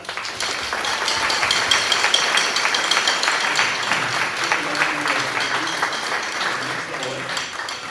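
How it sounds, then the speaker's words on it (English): An audience at a percussion night gives sustained applause for a teacher and her students, a dense wash of clapping with some faint voices mixed in. "give Ms. Massey and the students one more big round of applause."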